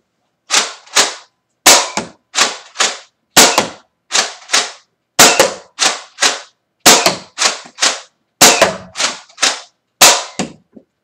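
A toy dart blaster firing whistler darts, first shot singly and then slam-fired: a long run of loud, sharp, close cracks, often in quick pairs, with no voices.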